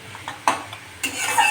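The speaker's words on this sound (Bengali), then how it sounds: "আর ওই তেলের মধ্যে আমি পেঁয়াজগুলো দিয়ে দেবো। পেঁয়াজটা আমি ভালো করে ভেজে নেব।" Onions fry in hot oil in a kadai while a metal spoon stirs and scrapes, giving a few sharp clinks over a soft sizzle.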